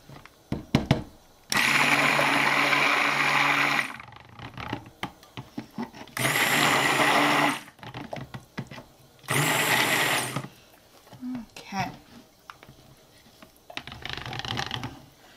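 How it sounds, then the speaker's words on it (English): A stick blender whirs loudly in several bursts of a few seconds each while mixing soap, with quieter clattering and handling noises in the gaps. "I'm gonna hit it with the stick blender just to get it the rest of the way"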